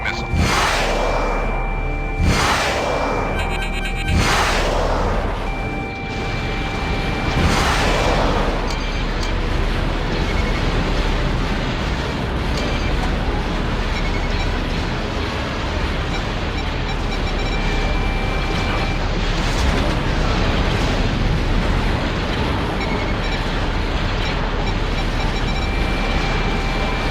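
Space combat in the game TIE Fighter Total Conversion, with whooshing missile passes and dense booming explosions over a constant loud roar, the opening seconds punctuated by several sharp bursts.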